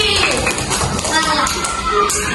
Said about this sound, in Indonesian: Tepuk tangan untuk Bodi.